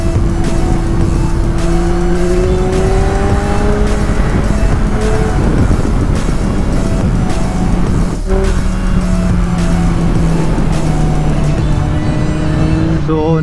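A Suzuki GSX-S1000 motorcycle engine drones loudly and continuously while riding on a road near Alegria, Cebu, toward Santander Viewpoint, revs rising and falling through gear changes, with wind rush throughout.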